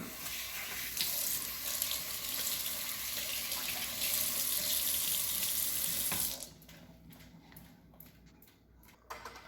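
Hands are washed under a running kitchen tap in a loud, steady splashing stream for about six seconds. Then the water stops and a few faint clicks and handling sounds follow.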